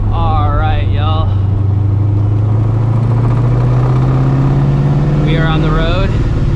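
A loud supercharged New Edge Mustang GT with no hood, driven on the road, its engine holding a steady droning note with a rising whine, while other sounds pass over it near the start and end.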